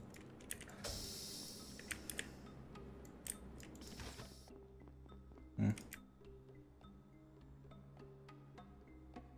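Computer mouse and keyboard clicking during a game task, faint sharp clicks and taps scattered irregularly over a quiet background, with one brief louder knock near the middle.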